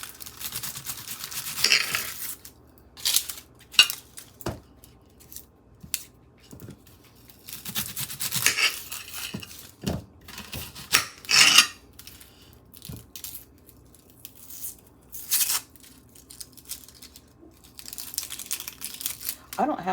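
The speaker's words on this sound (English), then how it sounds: "I'm just going to quickly chop up this onion." An onion is chopped on a cutting board in a home kitchen, with irregular close knife taps and crinkly peel rustling scattered through the stretch, while a voice talks quietly in between.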